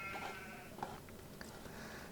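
Sheep in Farming Simulator 25 bleat a few times, short wavering calls over a steady farmyard ambience, fairly quiet and with no talk.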